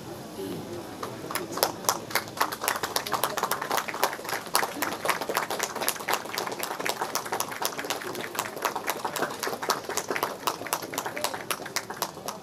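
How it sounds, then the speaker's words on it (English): Audience applause for a traditional fire-making stage performance at the Sekrini festival: dense, sustained clapping from a crowd, steady and fairly loud for the whole stretch, with no voices over it. "Round of applause."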